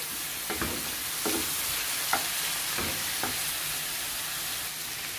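Baby back pork ribs fry with onions and homemade barbecue sauce ingredients in a pan, giving a steady sizzling hiss broken by a few short clanks of stirring at a close distance, with no voices.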